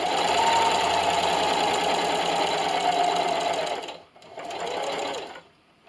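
A sewing machine stitches the seam of a tablet stand, a rapid, steady mechanical whirring and clatter that runs close and loud, stops briefly, restarts for a short burst and then goes quiet.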